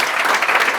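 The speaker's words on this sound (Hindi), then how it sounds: "आपको अगर अच्छा लगा है तो जोरदार ताली बजा सकते" Audience applause at a physical training session at a coaching branch in Vadodara, a steady dense clapping from a crowd filling the whole short moment without a break.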